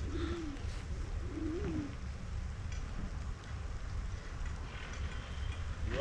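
Pigeons coo softly in a coop, a few low rolling coos near the start among faint rustling, with a steady background rumble and no voices.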